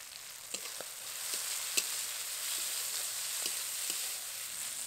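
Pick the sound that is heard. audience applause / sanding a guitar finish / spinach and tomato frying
spinach and tomato frying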